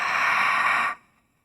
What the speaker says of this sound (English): Open the mouth, fogging out through the mouth.